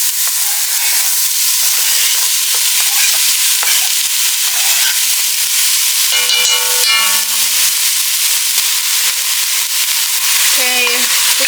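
Ground beef and onion fry in a Dutch oven with a steady, loud sizzle that runs the whole time, over occasional scraping and stirring from a utensil and some brief faint tones in the background.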